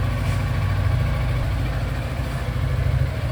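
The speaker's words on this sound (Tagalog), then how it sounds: "Painit muna ng motor." A Yamaha XMAX 300 scooter idles while warming up, its engine a steady, close, low drone with an even pulse and no voices.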